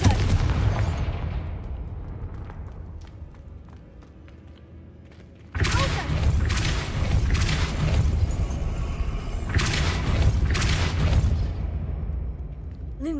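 A Confringo fire spell exploding in the game Hogwarts Legacy: a rumbling background fades, then a sudden loud blast erupts into a long, roaring, crackling burst with further booming pulses.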